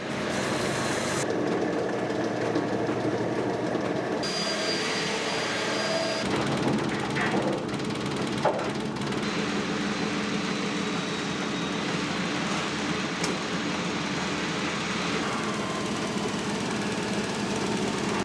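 Sanding an alphorn part on a wood lathe: a steady, loud machine roar with a grinding hiss runs unbroken throughout, with occasional higher squeals and knocks.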